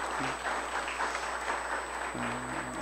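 An audience in a church hall at a city-evangelization jubilee anniversary gathering applauds, a soft, steady wash of clapping heard from a distance, with a low hum and a brief tonal sound at the start and near the end.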